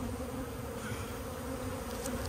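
Bees buzz close by during a bee colony removal in a dense, continuous drone, the hum holding steady and fairly loud with no other sounds.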